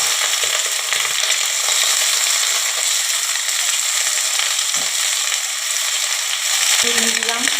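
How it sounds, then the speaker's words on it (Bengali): Fish laid into hot oil in a pan sizzle and fry with a dense, continuous crackle close up, holding steady throughout. "এবারে আমি মাছগুলো ছেড়ে দিলাম।"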